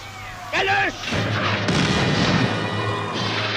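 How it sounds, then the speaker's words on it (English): Wartime newsreel battle sound at the German invasion of Poland and Danzig: dense, rumbling gunfire and shelling with booms and crashes over a continuous roar, plus a brief whistling tone early on. "The roar of gunfire replaces the talk of statesmen"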